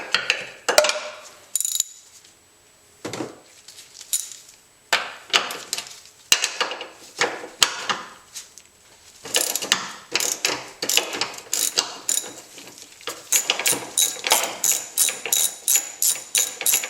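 A hand ratchet clicks in repeated bursts while loosening bolts on a Honda Prelude engine during timing belt work. Short rapid pawl ticks come in clusters with brief pauses and occasional metallic knocks, close and fairly loud, with no talk.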